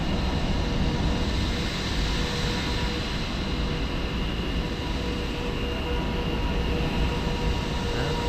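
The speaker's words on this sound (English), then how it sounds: "Aircraft number 7. Takeoff roll." A simulated aircraft rolls down the runway for takeoff at Winnipeg airport in a virtual tower view, producing a steady, continuous broadband engine roar and rumble that holds at an even level throughout, with no voices.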